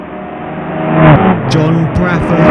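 Pro Series race cars lap New Hampshire Motor Speedway, their engines roaring and swelling as they pass, with a race commentator talking over the noise.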